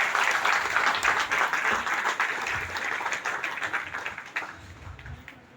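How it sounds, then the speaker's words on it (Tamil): Enthusiastic audience applause at a cement plant's road-safety awareness play, a dense burst of clapping that gradually thins and fades over several seconds. "அனைவருக்கும் ஒரு பலத்த கரகோஷம் எழுப்புவோம்."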